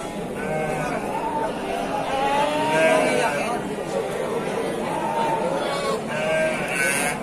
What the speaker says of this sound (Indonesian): ini ada domba gibas ekor gemuk ya